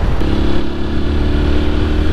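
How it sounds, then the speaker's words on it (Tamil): Steady low engine drone from a TVS Apache 160 4V motorcycle exhaust, a continuous sporty rumble at constant revs, close and fairly loud throughout with no voices. "எக்ஸாஸ்ட் நோட் வந்து நல்ல ஸ்போர்ட்டியாக இருக்குது."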